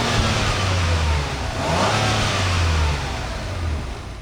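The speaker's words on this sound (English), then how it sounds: "Let's take a listen to the exhaust in Sport Plus mode." A 2022 Acura MDX Type S exhaust in Sport Plus mode rumbles steadily with a deep engine drone, rising into a rev around the middle before settling back, loud and close with no talking.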